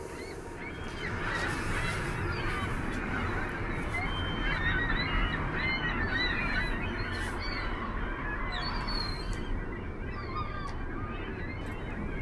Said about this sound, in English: Whenever the gulls start squawking a bunch